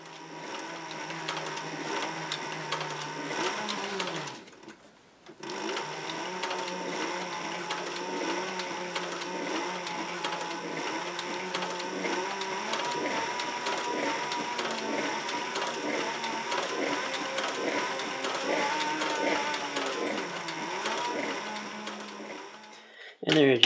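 A sewing machine stitches a leather magazine pouch for a shoulder holster. The motor hums steadily with a fast needle rattle, briefly stopping near five seconds and running on to the end.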